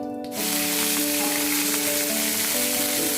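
Mustard seeds, fennel, onion, green chili and curry leaves hit hot oil for a cauliflower fry, bursting into a loud, dense, continuous sizzle that carries on evenly close by.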